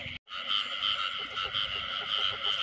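Frogs croak steadily and close by at night along the bank of a rice field, a dense, continuous pulsing chorus after a brief silent gap at the start.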